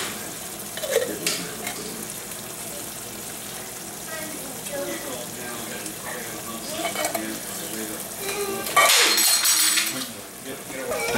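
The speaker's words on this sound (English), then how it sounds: "Now we're just going to mix that together." Ground meat filling for chimichangas scraped and stirred in a hot pan, steady sizzle with scraping strokes throughout and a louder burst of frying near the end, a voice talking over it at times.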